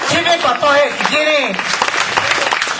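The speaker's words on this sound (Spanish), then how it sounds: "Dale un aplauso al Señor. Dale un aplauso fuerte." A church congregation bursts into applause, dense clapping rising in the second half after a preacher's loud voice, which talks over the start.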